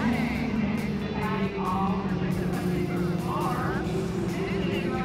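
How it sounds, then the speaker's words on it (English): Vintage cars driving past at Laguna Seca race track on a cold day, engines droning at a distance with a couple of faint passes building and fading under a steady outdoor hum. "You can hear the cars going by."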